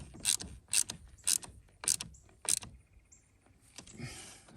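A wrench ratchets in five quick, close bursts while tightening the negative battery terminal on a 2018 Ford Edge, followed by softer metallic handling.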